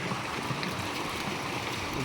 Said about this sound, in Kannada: ನೀರು ನೋಡಿ ಯಾವ ಥರ ಬೀಳ್ತಿದೆ